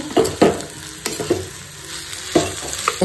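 Soybean chunks stirred in a frying pan, with several scraping strokes of a spatula over a soft background sizzle, close and fairly loud.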